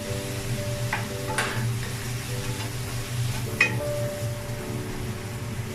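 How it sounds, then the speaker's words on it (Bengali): Dried loitta fish frying in oil in a pan with a little salt and turmeric, a steady soft sizzle with a low hum and a couple of brief clinks from stirring. "সামান্য একটু ভেজে নিচ্ছি শুটকিগুলা এই তেলটার ভিতরেই"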